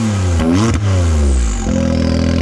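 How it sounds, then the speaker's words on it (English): A loud, close UTV engine revs hard through a stainless steel exhaust with a raspy note, rising and falling twice before settling into a throbbing idle. "how to make a UTV exhaust just like this one, and better yet, it'll sound like this."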